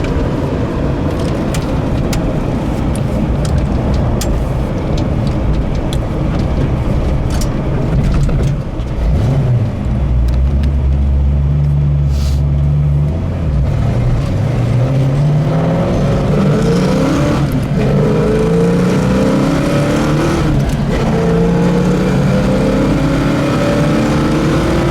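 A 1966 Mustang GT Fastback with aluminum heads pulls hard down the road at speed, its engine note rising steadily through the gears under steady wind and road roar, heard from inside the car.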